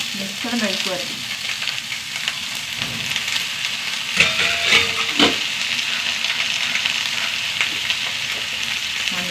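Curry leaves, onion, drumstick and potato fry together in a pan, giving a steady close sizzle with a few louder stirring scrapes and clinks near the middle.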